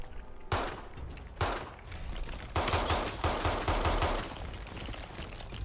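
Bursts of gunfire in Fallout 4 come in dense, loud volleys, several overlapping rapid shots in close succession, sounding near and heavy with reverberant rumble between bursts.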